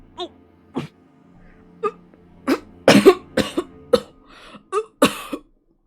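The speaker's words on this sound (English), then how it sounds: "His coughing was a lot worse than before." Lucas, a character in Virche Evermore, coughs repeatedly in short harsh bursts. The coughs start sparse, then come in a rapid, strained cluster and end with a few more hacking coughs, close and loud.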